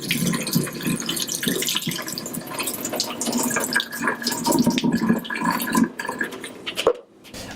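Water draining off a batch of rinsed chokecherries, a steady close splashing and trickling pour that runs for several seconds before thinning into drips near the end.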